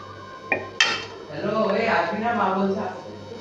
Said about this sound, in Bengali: দেখুন এবার আমি ঢাকনাটা তুলে নিচ্ছি।